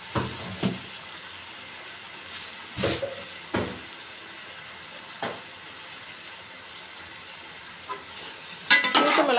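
Spices for vegetable biriyani, including chilli powder, fry in a pan with a soft sizzle, broken by a few sharp stirring scrapes and a louder burst of hissing at the end, and no voice.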